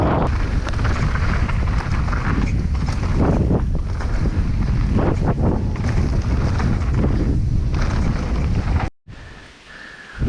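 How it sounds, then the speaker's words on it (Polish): Strong wind buffets the microphone outdoors as a steady, loud roar for about nine seconds, then cuts out abruptly and returns more faintly near the end. "tu trochę wieje"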